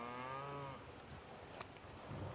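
Cattle moo in a long, drawn-out low call near the start, grazing animals out on open pasture by streams, followed by quieter rustling farmyard sounds.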